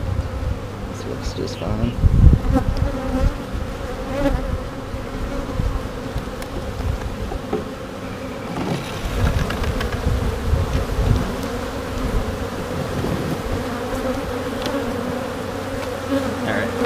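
Honeybees buzz steadily at a queenless backyard hive, a dense, continuous drone close to the microphone, while someone talks briefly over it.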